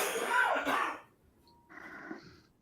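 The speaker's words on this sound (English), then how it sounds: "Damn, he's coughing." A person coughs once, a loud, raspy burst close by that fades out, followed by faint quieter noise.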